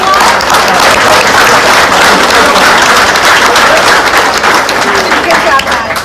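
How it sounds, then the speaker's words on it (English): Loud, enthusiastic applause from a crowd at a school district board meeting, a dense continuous roar of many hands clapping for the full stretch with faint cheering mixed in. "Let's give them one more round of applause."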